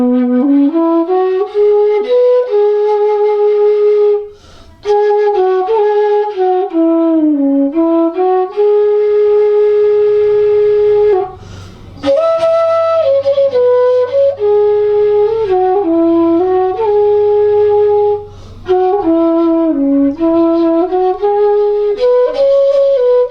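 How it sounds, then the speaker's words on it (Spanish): Ethnic flute playing a pentatonic scale in a raga, a breathy, pure-toned melody of sustained notes with gliding bends and short breath pauses, played solo and close. "esto es una escala pentatónica"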